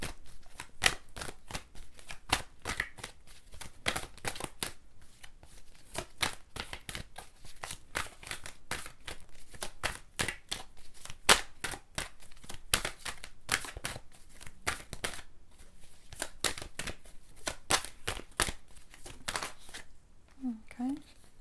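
Tarot cards are shuffled by hand in quick repeated riffles and taps, close and fairly quiet, continuing steadily for a long stretch with a brief voice near the end.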